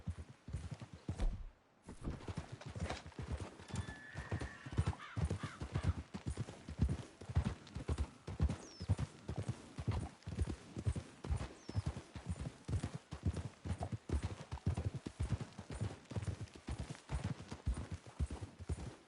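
Steady, rhythmic hoofbeats of horses trotting in the video game Red Dead Redemption 2 clatter continuously, loud and close, with faint jingling and a brief pause early on.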